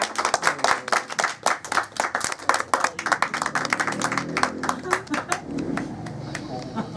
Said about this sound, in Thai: ปรบมือให้กับเพื่อนๆที่กลับไปแล้วทุกคน